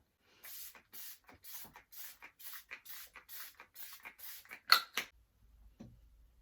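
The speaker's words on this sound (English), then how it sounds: "So I'm just going to spritz this all over my face just to give that glow" Iconic London Prep Set Glow setting mist is spritzed over a face in a quick run of about a dozen short, soft hissing pumps. One burst near the end is louder, then the spraying stops and all is quiet.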